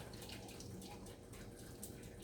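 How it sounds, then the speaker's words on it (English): Hot cooking water is poured off boiled codfish in a kitchen, a quiet, continuous splashing trickle with faint drips. No one speaks over it. "Pour the water off."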